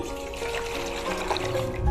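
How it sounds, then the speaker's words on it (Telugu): Salt water is poured into a bowl in a kitchen, a close, continuous splashing trickle that runs steadily and grows slightly louder near the end. "దీంట్లో ముందు ఉప్పు నీళ్ళు పోసుకుందాం"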